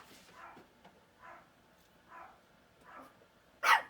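Dogs barking at a house, a series of faint, distant barks in a steady rhythm, ending in one sharper, louder bark close by, with no talking.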